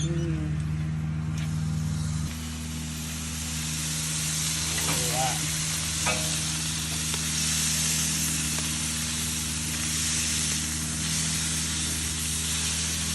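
Surf and turf sizzling on a BBQ grill, a steady broadband hiss running the whole time with a constant low hum underneath and some faint background voices.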